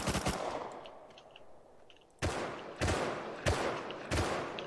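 A 5.56 rifle in the survival game Rust fires a rapid burst at the start, then, after a short pause, four sharp, evenly spaced single shots crack out loudly.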